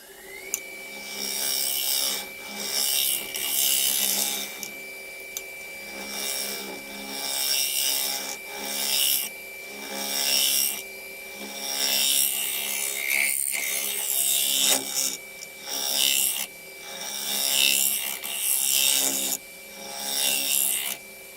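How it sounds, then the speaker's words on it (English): A woodturning scraper shapes the inside of a wooden bowl on a spinning lathe, giving repeated scraping passes over a steady motor hum, close by. "So I'm just going to use my scraper just to blend this in a little bit."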